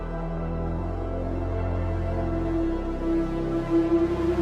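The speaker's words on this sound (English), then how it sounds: "It also makes a rising sound like this." A synth riser with pitch automation and reverb, a sustained harmonic tone with a low note that drops partway through and a high layer that swells and pulses toward the end, heard alone.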